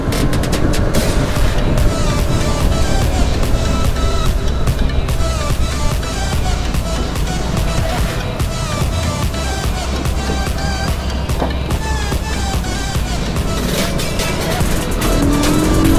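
Several motorcycles, including KTM RC bikes, a Yamaha R15 and a 250, ride together at full throttle on a twisty road, making a dense, continuous, loud roar of engines and wind that never lets up.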